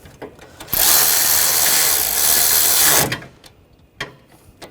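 Power tool tightening intake runner bolts on a 2002–2006 Honda CR-V 2.4L four-cylinder engine: one loud, steady whirring burst of about two seconds, close by, framed by quieter clicks and handling noises.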